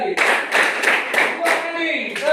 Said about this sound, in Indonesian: Tepuk 3 kali. Tepuk 5 kali.